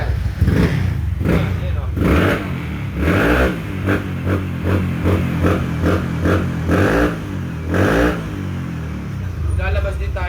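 Motorcycle engine revving through a custom-designed performance exhaust pipe, repeated throttle blips rising and falling over a steady idle, close and loud, with someone speaking briefly.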